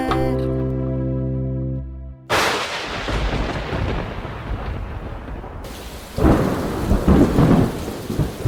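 A thunder and rain sound effect is part of a Tamil devotional song. Tonal music cuts off, then a loud thunderclap crashes and rumbles over hissing rain, with a second heavy crash near the end.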